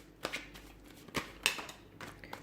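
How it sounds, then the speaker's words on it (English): Quiet, close tarot card shuffling, with a few soft riffling bursts and taps spread over a couple of seconds. "we'll give the cards a shuffle"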